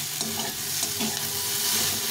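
Okra and onions stir-fried in a pan, with a steady, close sizzle and the scrape of stirring running throughout; no one speaks.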